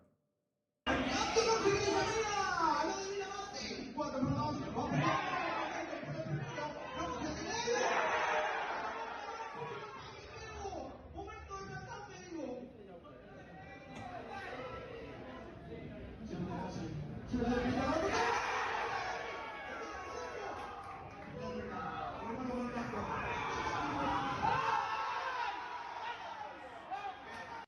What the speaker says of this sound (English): A CS2 LAN being played in an active subway station with a live crowd.